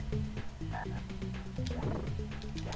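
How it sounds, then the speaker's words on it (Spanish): Frog croaking in the SNES video game The Flintstones, a busy series of quick, throaty croaks repeating rapidly over a couple of seconds, moderately loud and close with no talk. "Espérate, que ahí arriba hay una rana."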